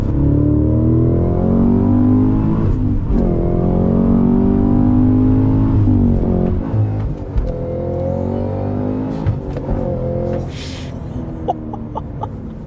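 A 2023 Cadillac CT5-V Blackwing, a 668-horsepower manual sedan, revs and accelerates hard from inside the cabin, its engine drone climbing through the gears with shifts, then settling lower, with a brief laugh near the end.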